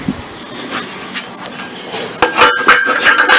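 Clamps are fitted and tightened to hold a metal sheet on a homemade bending jig, producing scattered scraping, rubbing and metallic clicks that grow louder and denser near the end.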